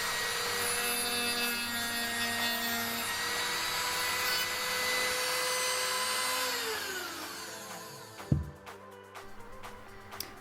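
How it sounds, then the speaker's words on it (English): A Dremel rotary tool cuts away plastic screw holes, giving a steady high whine and grinding that holds for several seconds, then drops in pitch, stops, and is followed by faint clicks and handling noises. "we're gonna use the Dremel. We're gonna cut away the screw holes."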